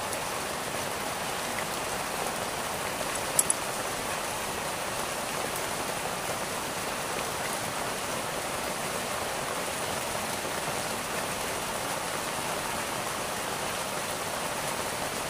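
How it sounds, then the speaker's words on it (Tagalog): Heavy rain pours down in a steady, dense hiss that stays loud and even throughout, with one brief sharp tap early on and no voices. "Ang lakas ng ulan."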